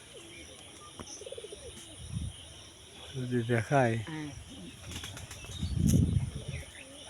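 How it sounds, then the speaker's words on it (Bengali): Pigeons at a pond-side fish farm with a pigeon house flap their wings and coo softly amid insect chirring, with a man's brief speech in between and a louder flurry of wingbeats near the end. "এই দেখেন কবুতর ঘর আছে, এই দেখেন কবুতর"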